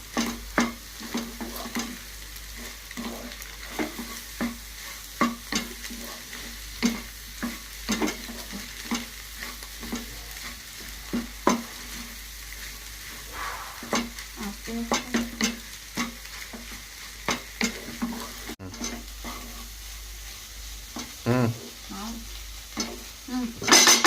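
Egg curry with coriander being stirred in a pan, a steady run of close spoon scrapes and clacks over a soft sizzle, with no talking.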